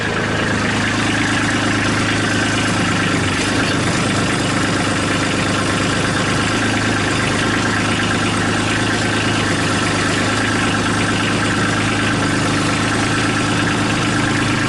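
A Kubota B2650 tractor engine idles steadily and loudly up close, a continuous rough mechanical drone with a constant low hum and no change in pace, and no talk.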